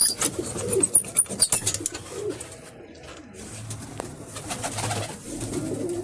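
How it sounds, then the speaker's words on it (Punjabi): Pigeons in their coop coo in low, repeated throaty calls at close range. Brief rustles and wing flutters come near the start. "ਆਹ ਆਪਣੇ ਕਬੂਤਰ"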